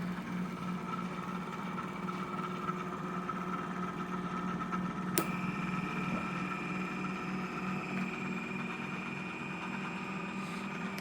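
A powered flywheel with a nine-magnet, eight-inch rotor spins steadily at around 2700 rpm, a constant low hum with a faint whine, quiet and unchanging, with one brief click midway.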